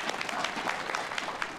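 Applause from a live audience at an esports team event, a short burst of steady clapping from a crowd at moderate distance.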